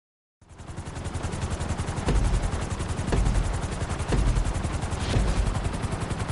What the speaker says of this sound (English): we're gonna put you in a helicopter for this lesson